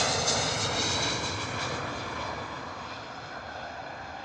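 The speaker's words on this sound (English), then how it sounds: "Hey, that's a classic Ryanair landing there" A Ryanair airliner lands at Bristol Airport in wet, stormy weather, its engines roaring loudly and steadily from close by, then slowly easing off as it rolls out, with no voices.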